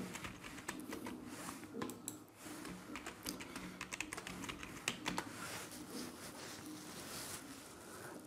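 A password is typed on a computer keyboard as a quiet, uneven run of close key clicks with short pauses between bursts, heard alone with no talking.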